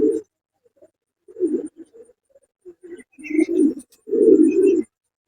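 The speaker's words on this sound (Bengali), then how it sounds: "এই যে দেখেন একজোড়া ইন্ডিয়ান লোটন কবুতর" A pair of Indian Lotan pigeons cooing close by, soft throaty bursts coming in uneven clusters and swelling into longer rolling coos, with quiet gaps in between.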